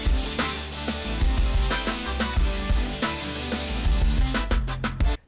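Music sample generated by the Stable Audio AI model, a dense full-band mix with steady bass and regular percussive hits in a driving rhythm, loud throughout before cutting off abruptly at the end.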